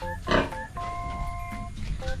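A mother pig on a backyard farm lets out a loud close grunt, followed by softer rumbling snorts and snuffles over a low background hum.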